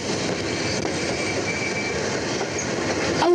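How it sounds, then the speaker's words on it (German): A model railway train runs along its tracks with a steady dense rolling rattle, continuous and fairly loud, with a faint squeal near the end. "Oh, das ist meine Eisenbahn."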